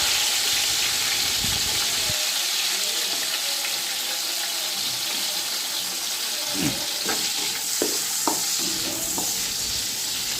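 Chopped tomato, green chili and ginger sizzle in melted Dalda and ghee for egg biryani rice, a steady loud hiss with a few scraping stirs and light knocks of a spoon in the latter half.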